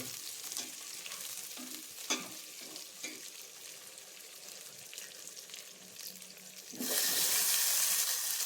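Tomatoes stirred into a sizzling pan for a country chicken curry, with soft scraping and light frying hiss, then a louder burst of sizzling near the end; no talking.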